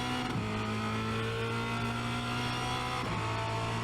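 A Formula Renault 2.0 race car at Spa Francorchamps, its engine droning steadily under throttle from onboard, with two quick pitch shifts as gears change, loud and continuous.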